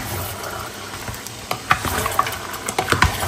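Ingredients stirred and frying in a pan while cooking begins at home, a steady sizzle with irregular scraping and clinking stirs growing busier toward the end, fairly close.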